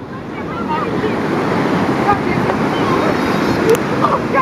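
Pacific Ocean surf rolls in at Roads End beach in Lincoln City, Oregon, with a continuous loud wash of breaking waves and gusty wind buffeting the microphone throughout.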